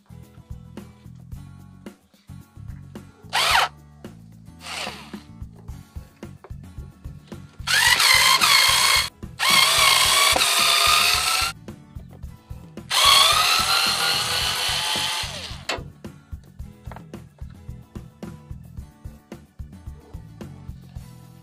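A powered screwdriver used on an Opel Corsa during spark plug and air filter work whirs in three bursts: a short one, then two longer high-pitched runs, over steady faint clicking in the background.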